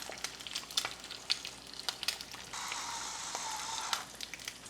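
Eggs seasoned with salt and pepper frying in a pan for breakfast tacos, a steady close sizzle with sharp crackles and pops, swelling into a denser, louder hiss midway as the eggs are moved, with no talking.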